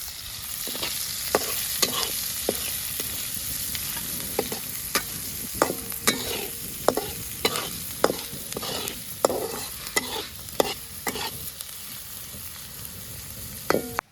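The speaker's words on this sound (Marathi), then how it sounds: "आता मी कांदा टाकते कांदा परतू परतू घेते" Onion sautéing in an oil-filled pan sizzles continuously while a spoon scrapes and taps the pan in regular stirring strokes, with close, distinct clicks.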